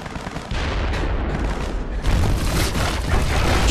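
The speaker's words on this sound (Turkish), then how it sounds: "Çıkmayın, top ateşi var." Battle reenactment of the Gallipoli (Çanakkale) front, with a dense barrage of artillery booms and rattling machine gun fire rolling on continuously, loud and close, with the intensity surging partway through and no voices heard.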